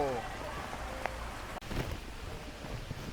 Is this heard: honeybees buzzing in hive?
no